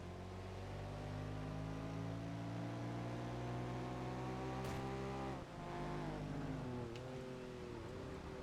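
An Audi race car engine in Project Gotham Racing 4 drones steadily as it accelerates through gears, pitch climbing with a brief dip at a shift, heard close and continuous with no talk.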